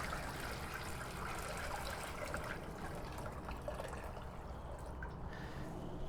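Water pours steadily into a pot to make a brine for smoking a turkey breast, a continuous rushing fill with a gurgling, bubbling texture that holds even and fairly close for the whole stretch.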